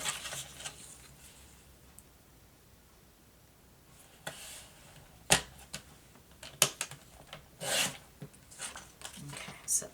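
Paper being trimmed for a mini album, quiet scraping and rasping strokes with a few sharp clicks and slicing bursts scattered across the clip, close and soft.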